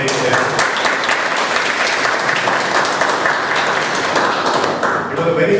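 A Toastmasters club meeting audience in Bombay gives a big round of applause, steady dense clapping that runs throughout at close range and fades slightly near the end.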